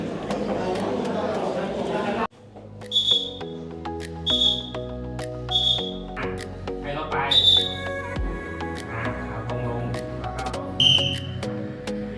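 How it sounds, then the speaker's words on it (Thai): A whistle is blown in several short, sharp blasts during a school volunteer activity demonstration, sounding over background music and talking. "เดี๋ยวเราไปดูวิธีการสาธิตเป่านกหวีดค่ะ"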